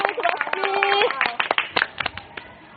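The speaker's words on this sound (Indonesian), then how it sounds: "Tepuk tangan yang meriah." Applause and scattered hand claps from a crowd, fairly loud, mixed with cheering voices and talk, then thinning out toward the end.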